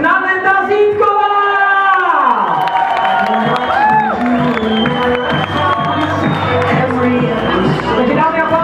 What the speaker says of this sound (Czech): Bouřivý potlesk na Naneta Zítková!